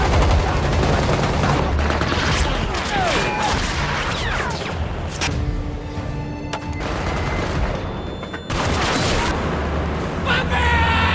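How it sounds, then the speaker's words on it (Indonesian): Gunfire from the action film The Shadow Strays comes in a dense, chaotic mix of repeated shots and booms, mixed with music and a shouted voice. "Qabil pun langsung mengerahkan pasukannya untuk menembak dan inilah yang terjadi."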